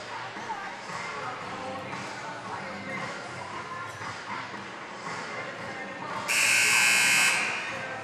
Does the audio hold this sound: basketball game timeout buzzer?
yes